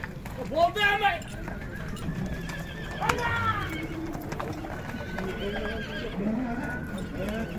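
Horses whinny loudly several times amid hoof clip-clops and a busy crowd of voices at the Bishkek outdoor horse market, with birds faintly in the background.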